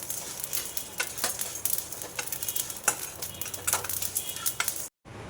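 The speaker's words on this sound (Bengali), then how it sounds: "এবার দিয়ে দেবো আমি 5 ফোড়ন, শুকনো লঙ্কা, সব মশলাগুলো আমি দিয়ে দেবো এবারে।" Panch phoron spices and dried red chillies crackle and sizzle in hot oil for a mango oil pickle, with scattered sharp pops and spatters over a steady hiss, close by, ending abruptly.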